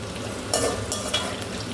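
Bitter gourd sautéing in a pan on a large stove, giving a steady close sizzle with a few brief scraping stirs rising above it.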